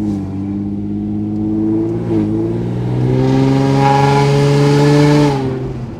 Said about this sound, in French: Un V6 en échappement ouvert comme ça, c'est vraiment pas discret.